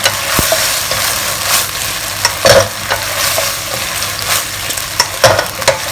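A spoon or spatula stirs potatoes and luncheon meat through thick sweet and sour sauce in a pan, giving repeated close scrapes and clinks over a steady low sizzle, with no talking.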